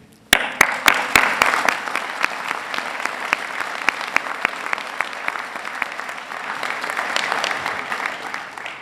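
At a university commencement ceremony, a large audience breaks into applause that starts with a few sharp individual claps and swells into sustained, dense clapping, with no voices on top.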